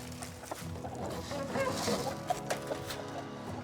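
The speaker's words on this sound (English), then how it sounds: "the chickens are happy, that's the rooster" Backyard chickens and a rooster cluck and murmur together at close range in a busy, overlapping chorus, with a few sharper clucks standing out near the end.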